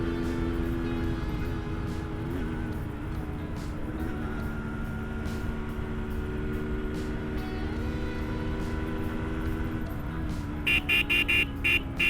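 Changed aftermarket horn on a Yamaha RXS 115 motorcycle gives several short, loud honks near the end, after a long stretch of steady engine idle.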